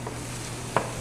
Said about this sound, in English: When the vinegar hits the pan, sometimes it gets a little intense.